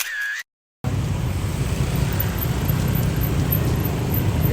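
A Mercedes-Maybach S580 luxury sedan rolls past in street traffic, giving a steady, loud wash of tire and engine noise close by after a brief cut at the start.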